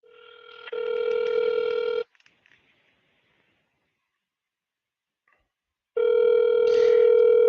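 A telephone ringback tone sounds twice in long steady buzzing bursts of about one and a half seconds, separated by a long silent gap, loud and close.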